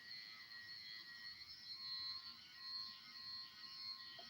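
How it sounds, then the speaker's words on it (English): A smoke detector chirping for a low battery, sounding as a thin steady high-pitched electronic tone held through the clip over faint room noise. "change your fucking smoke detector battery. I'm tired of hearing that."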